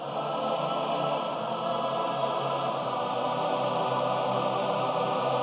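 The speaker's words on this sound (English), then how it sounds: "just so you can hear how the full default choir sounds" A dense, sustained choral chord from a Spitfire Audio choir plugin's full default choir holds steady throughout, many blended voices singing together with a rich, full sound.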